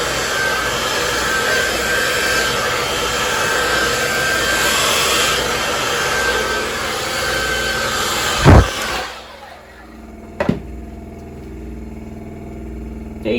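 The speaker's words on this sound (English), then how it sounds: "I'm going to use the hairdryer and sort of see what happens there." A hair dryer on high heat blows steadily over liquid resin, a loud continuous whoosh that cuts off partway through, followed by a couple of brief knocks in near silence.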